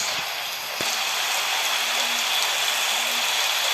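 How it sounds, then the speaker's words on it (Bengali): Heavy rain pours down steadily during a Kalbaishakhi storm, a dense, loud hiss with water running on the road, plus a few faint clicks and knocks. "চারদিকে একদম জল দেখছো তো রাস্তায় কীরকম জল বইছে"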